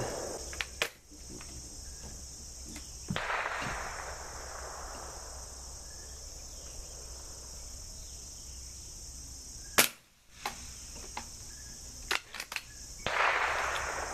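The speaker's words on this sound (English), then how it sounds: "I will be shooting at the target on the left-hand side." An air rifle, dieseling for extra power, fires at a target 10 yards away: scattered sharp cracks with one loud shot standing out, set against a constant outdoor cricket chorus.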